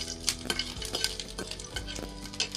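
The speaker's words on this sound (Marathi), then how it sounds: "आता हा लसूण मी भाजून घेते तेलामध्ये छानसा" Garlic fries in oil while a spoon stirs it, a soft sizzle broken by repeated scraping and clinking strokes against the pan, quiet and close with no talking.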